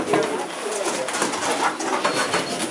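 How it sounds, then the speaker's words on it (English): Homing pigeons coo softly at a racing pigeon society loft amid a steady wash of background noise and faint voices. "the pigeons are flying from the south"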